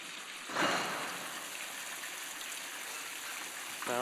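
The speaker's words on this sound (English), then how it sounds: "Fountain in front of the cathedral." Fountain water splashing steadily in the square in front of Burgos cathedral, a continuous broad wash of falling water with a brief louder gush near the start, heard up close with no talking.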